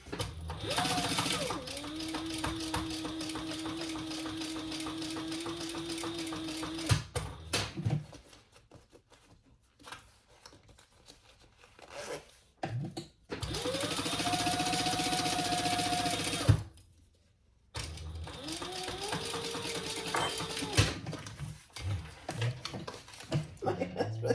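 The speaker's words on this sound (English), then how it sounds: "let's sew that together" Household sewing machine stitching a fabric seam in short bursts, with a few seconds of steady whirring, pauses, then two more runs, loud and close with some talk around it.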